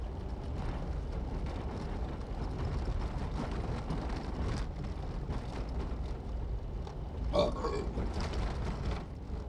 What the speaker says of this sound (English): Yes, I just burped